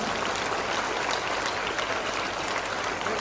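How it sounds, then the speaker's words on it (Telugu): An audience at a school event claps continuously, a dense even wash of applause with no pauses, steady and fairly loud throughout. "మీరు క్లాప్స్ కొడుతూ ఉండాలా"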